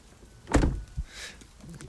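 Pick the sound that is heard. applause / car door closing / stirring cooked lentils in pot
car door closing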